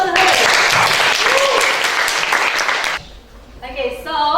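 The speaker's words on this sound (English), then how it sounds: "Give applause to her." Students clap for a classmate in a high school classroom, a loud dense burst lasting about three seconds before cutting off, followed by a short quiet gap and some voices.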